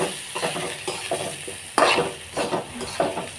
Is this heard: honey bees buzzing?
no